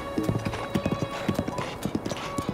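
A horse gallops in Zelda: Breath of the Wild, its hooves beating out a quick, regular clip-clop rhythm that stays close and clear throughout.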